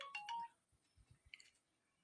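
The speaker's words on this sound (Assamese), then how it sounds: "ফোনটো আহিছে" Mobile phone ringing with an incoming call, a short melodic ringtone burst at the start followed by soft thumps and faint handling noise, fairly quiet overall.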